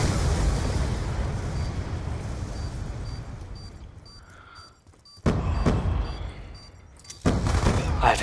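Loud booming blasts in Call of Duty Black Ops 2 multiplayer, a sustained rumble fading out, then two sharp explosive bursts a couple of seconds apart.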